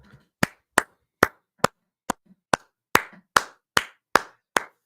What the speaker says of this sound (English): Everyone clap for Haytham Shubair